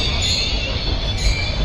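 The diesel-hauled Meenakshi Express rumbles loudly and steadily at a crowded Madurai Junction, with a faint metallic squeal riding above the low roar.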